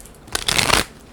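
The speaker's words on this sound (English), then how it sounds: "I seen Ace of Cups as I was shuffling." A quick burst of cards being riffled and shuffled, close up, lasting about half a second, with quiet room tone before and after.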